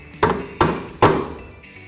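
Three sharp metallic taps of a hammer on a wheel balance weight on a Rotary R180 wheel balancer, close up and spaced unevenly, each ringing briefly before fading.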